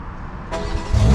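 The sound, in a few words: 500hp BMW car engine starting up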